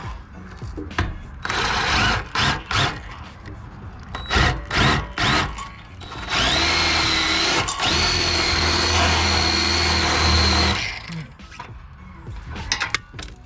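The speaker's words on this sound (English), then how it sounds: "I'm gonna have to drill that one" A power drill drilling metal while installing side steps on a 2016 Chevy Silverado bursts on and off in short revving pulses, then runs steadily for several seconds with a high metallic whine before stopping; close and loud.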